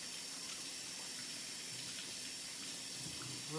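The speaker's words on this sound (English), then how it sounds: "And then I'm going to rinse my hands" Running tap water pours steadily into a kitchen sink as hands are rinsed, a continuous close broadband rush with soft splashing and no speech.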